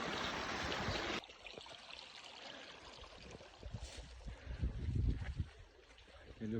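Mountain stream flowing beside a path on the Toubkal trek in Morocco's Atlas, steady broadband water noise that is loud in the first second, then lower and mixed with footsteps, handling and brief voices.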